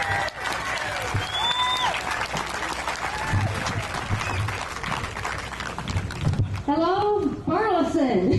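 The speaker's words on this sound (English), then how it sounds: "You guys please give me a big round of applause as our last speaker for today, Miss Angie Cox." Outdoor crowd applause at a July 4th Tea Party rally in Burleson greets the final speaker, a steady dense clapping with cheers and voices mixed in throughout, strongest near the end.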